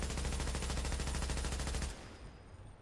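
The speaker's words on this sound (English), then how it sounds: "I'm gonna shoot it first." Rapid automatic gunfire from a gun in Tom Clancy's The Division, a fast even stream of loud shots for about two seconds, then cutting off and leaving a short fading tail.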